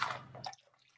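Liquid from a cut bag of clarified butter, with water and milk protein draining out of the snipped bottom corner: a brief close splashy gush that quickly thins to a few faint drips and trickles.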